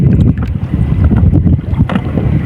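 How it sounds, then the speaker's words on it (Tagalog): Strong January wind at sea buffets the microphone in a steady roar, with splashing water and creaks from a small paddled fishing boat underneath. "Narinig niyo mga lods, mahangin."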